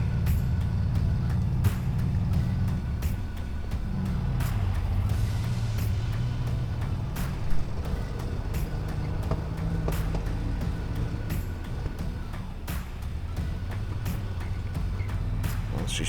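Old logging truck with a 20-speed transmission being driven and double-clutched through its gears, engine rumbling steadily and rising and falling in pitch between shifts, with short hissy air bursts and clunks along the way.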